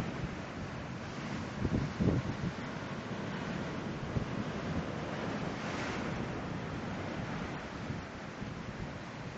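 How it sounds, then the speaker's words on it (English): Rough sea waves break and wash onto the beach at Boston Bay in Portland, Jamaica, a continuous roar of surf with wind buffeting the microphone and a few louder crashes. "seas are a little rough, but very very pretty water as you can see"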